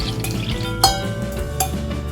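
Egg beaten with dashi, mirin and light soy sauce strained through a sieve for Japanese steamed egg, giving a soft continuous trickle of liquid with a couple of small drips and clinks, close and quiet.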